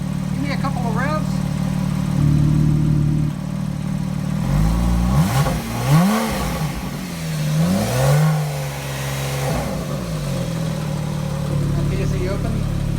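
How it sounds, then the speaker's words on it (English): A Porsche 911 (991.1) engine idles, then revs up and down several times with a throaty valved exhaust that grows louder when the valves open, while someone speaks nearby. "Give me a couple of revs."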